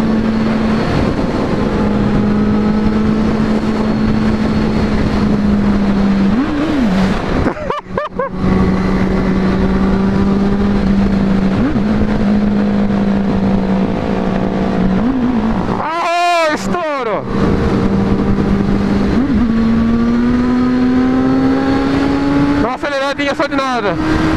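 A Kawasaki Z800 motorcycle engine runs loud and steady at a station forecourt, holding a sustained drone with a few sharp revs rising and falling, while people talk over it.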